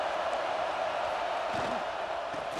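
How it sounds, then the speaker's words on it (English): Stadium crowd noise on third down in EA Sports College Football 26, with a Tide home crowd at Saban Field: a dense, steady roar with no breaks, and faint muffled thumps beneath it. "The Tide crowd rolling noise down onto Saban Field on 3rd down"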